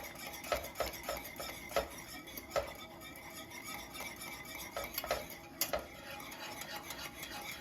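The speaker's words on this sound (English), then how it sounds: "So you just want to put in a bit at a time and give it a good stir." A spoon stirs a mixture in a pot with repeated scraping and clinking against the metal, several distinct knocks spaced irregularly over a soft, gritty rubbing.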